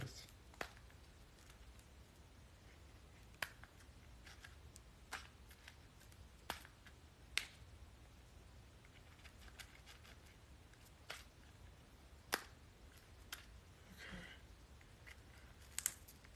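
Scissors snip fresh basil indoors, producing faint, sharp, isolated clicks at irregular intervals over a quiet background hiss.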